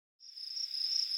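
Crickets chirping as a sound effect, a thin, high, steady trill that starts abruptly and holds continuously, clean and isolated.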